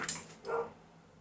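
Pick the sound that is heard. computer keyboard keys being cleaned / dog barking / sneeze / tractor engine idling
dog barking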